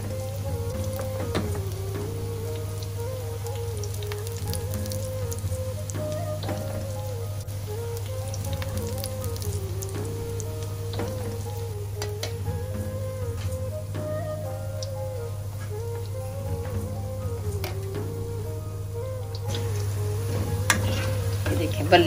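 Moong dal fritters for dahi baray fry in hot oil with a steady, soft sizzle that runs throughout beneath a constant low hum, while someone talks over it.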